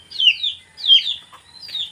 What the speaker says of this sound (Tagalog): itong mga manok na to